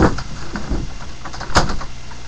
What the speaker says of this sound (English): Jaden, shut my door.